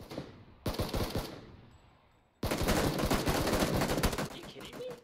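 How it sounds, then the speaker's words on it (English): Rapid automatic gunfire in a multiplayer shooter video game, with one loud burst, a short pause, then a longer sustained volley, close and dominant, without talk. "You weren't shooting at him."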